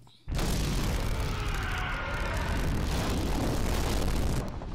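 A gas explosion in the 2009 horror film My Bloody Valentine 3D erupts as a loud, sustained roaring blast that fills nearly five seconds after a short quiet start, with no talking over it.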